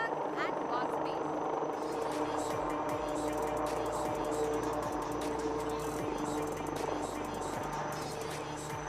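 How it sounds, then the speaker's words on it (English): A HAL Light Utility Helicopter landing at the Aero India 2021 air show, a steady rotor drone with rhythmic low blade thumps, heard from a moderate distance under a continuous crowd and event wash. "the LUH as it lands in front of us"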